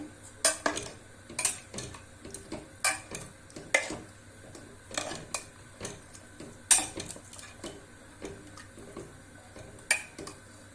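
A spoon stirs mutton curry with added water in a metal pot, giving repeated light clinks and scrapes at a steady, unhurried pace, quiet and close, with no voices.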